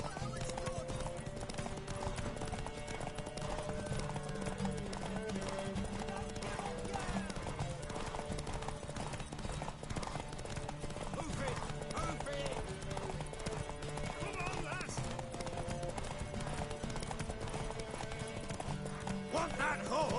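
Horse hooves pound in a race from the Witcher 3 video game, a steady galloping clatter under dense game music and crowd noise, with characters talking throughout.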